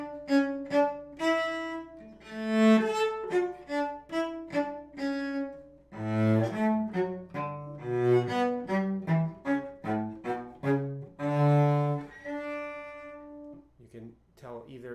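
Slow solo cello phrases moving from held tenuto notes into short, lifted staccato notes, played close and clear with no talking over them.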